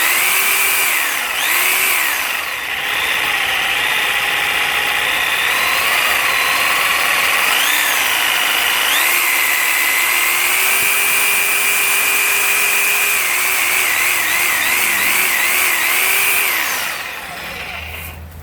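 DeWALT DWE305 12 amp reciprocating saw running alone, its motor whine rising and falling as the trigger is eased through variable speeds, steady and close for about eighteen seconds.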